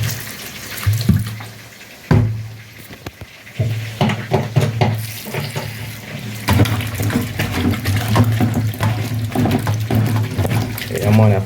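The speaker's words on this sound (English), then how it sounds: "Wash them off with some vinegar." Running water from a tap splashing over broccoli, carrots and string beans being washed with vinegar in a kitchen sink, with someone talking over the steady flow.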